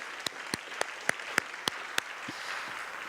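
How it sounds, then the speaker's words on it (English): A handful of separate sharp hand claps ring out in a fairly regular rhythm, about seven distinct claps close by over quiet room noise, after praise for graduating students in a school data presentation. "That is something to applaud."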